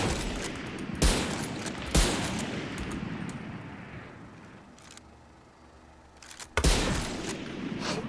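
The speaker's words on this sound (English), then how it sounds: "This is the Marshall, which would be like a scout." Marshal sniper rifle in the shooter game Valorant firing three sharp, loud single shots about a second apart, then one more after a quiet pause, each with a short echoing tail and no talk.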